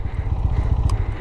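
A GPX Demon motorcycle climbing uphill gives a loud, steady, throbbing engine rumble close by, with a brief clatter near the end.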